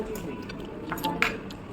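Metal spoon and fork clink against a plate while hilsa fish is eaten, giving a couple of light, bright taps over a low room murmur.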